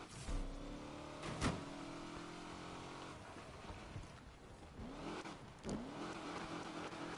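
A car in Need for Speed Unbound, its engine droning and swelling with a few revving surges and sharp transient thumps, held at a moderate distance with no voices.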